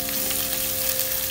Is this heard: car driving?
no